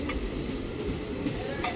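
The Kalaburagi–Bidar DEMU passenger train rolls past with a steady, loud low rumble and constant rail noise throughout.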